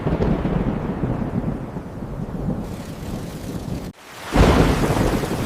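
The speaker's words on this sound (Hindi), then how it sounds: "अरे बाप रे, इतनी तेज बारिश!" Heavy rain pours down in a thunderstorm, a dense steady roar with deep rumbling thunder, cutting out briefly before the downpour surges back louder.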